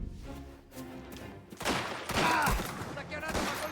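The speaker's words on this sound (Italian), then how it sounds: "Però sento degli spari." Gunfire in the Mafia: The Old Country video game, a burst of several rapid shots building into a loud fusillade over a background of game sounds and a voice.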